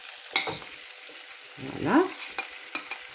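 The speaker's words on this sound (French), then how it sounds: "Le but, c'est de les faire revenir. On commence une première cuisson dans la poêle." Potatoes sauté in a frying pan with a soft background sizzle, broken by utensil clatters and a rising scrape as they are stirred; a voice speaks briefly.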